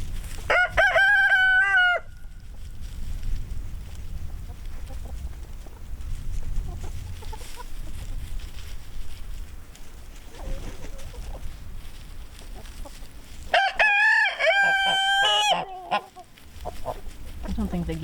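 Pastured chickens cluck and a rooster crows loudly twice, near the start and again near the end, over a continuous murmur of flock noise and some low background sound, with no one talking.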